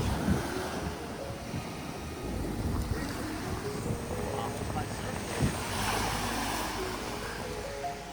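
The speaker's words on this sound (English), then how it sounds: "look at these waves out here." Ocean waves at a beach in Guam rumble and wash continuously, mixed with wind buffeting the microphone, as a steady, fairly close roar with a brief swell midway.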